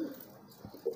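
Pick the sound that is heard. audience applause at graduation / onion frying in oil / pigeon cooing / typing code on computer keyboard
pigeon cooing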